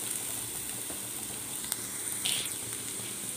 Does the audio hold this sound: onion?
yes